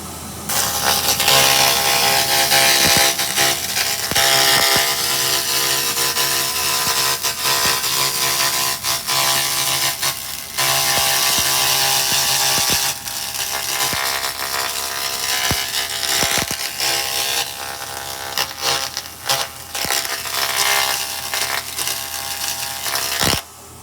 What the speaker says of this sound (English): this is the 2000 watt laser